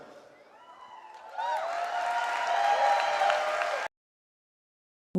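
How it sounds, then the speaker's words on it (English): A convention audience at a Young Living event applauding, a mid-level wash of clapping that swells after a second and holds steady before cutting off abruptly, with faint crowd voices mixed in. "Why are we clapping so much?"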